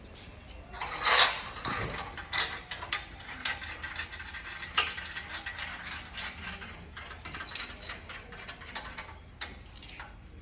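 A top bolt is tightened with a ratcheting tool while a Pilates reformer is assembled, producing rapid clicking ratchet runs and metallic knocks at close range, with pauses between bursts and no speech.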